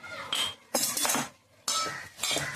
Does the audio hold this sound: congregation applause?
no